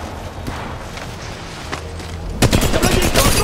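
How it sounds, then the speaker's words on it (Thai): Gunfire during a firefight in Apex Legends Mobile, with scattered shots at first and then a loud, dense burst of rapid automatic fire, close and alone without talk. "กำลังยิงต่อสู้ กำลังโดนยิง"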